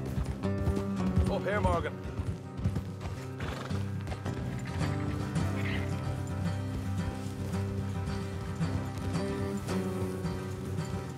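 Horses clip-clop along a road in the video game Red Dead Redemption II, a steady trotting rhythm beneath background music, with occasional snorts and a brief voice speaking over it.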